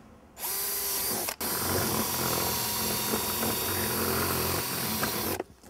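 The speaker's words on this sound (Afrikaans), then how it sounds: "dan kan ons so paar boor." A small drill bit bores holes into a plastic worm bin, a close, loud steady whir that starts, breaks briefly, then runs continuously for several seconds before stopping.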